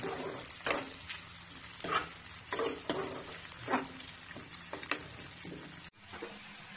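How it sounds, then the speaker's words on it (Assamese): Onion frying in oil toward golden brown for a duck meat curry, with a steady sizzle broken by repeated scraping stirs of a spoon against the pan, close and alone. "পিঁয়াজটো ভালকৈ ভাজি লৈছোঁ আৰু এইখিনি এতিয়া গল্ডেন ব্ৰাউন হ'বলৈ দিম মানে ব্ৰাউন হোৱালৈকে ভাজি থাকিম"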